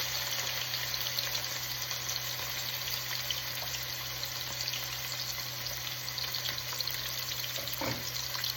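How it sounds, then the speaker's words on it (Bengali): Chopped onion, added after cardamom, cinnamon and bay leaf, fries in hot oil with a steady, even sizzle and crackle that continues close by, with an electrical hum beneath and a few faint clinks. "পেঁয়াজ কুচিটা একটু হালকা ভাজা করে নেব"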